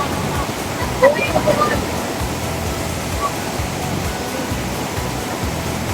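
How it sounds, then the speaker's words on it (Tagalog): Fast-flowing river water churns in a loud, unbroken roar close by, its powerful current steady throughout with a slight surge early on. "Lakas ng agos ng tubig."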